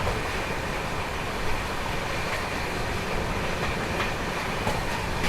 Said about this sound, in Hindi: तो फिलहाल अपनी ट्रेन इंदरगढ़ सुमेरगंज मंडी को स्किप कर रही है।